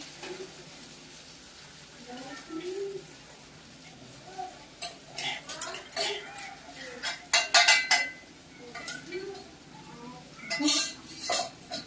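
Spoon stirring masala into vangi bath (spiced brinjal rice) in a pan, with irregular scraping clinks and clatters of metal on cookware, growing busier and louder toward the end, faint sizzle underneath.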